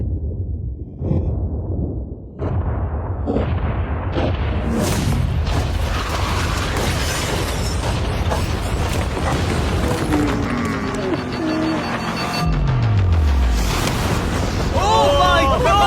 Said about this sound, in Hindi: उड़ा दो